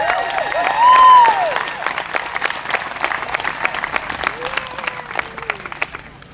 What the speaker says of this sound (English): let's give all of you a round of applause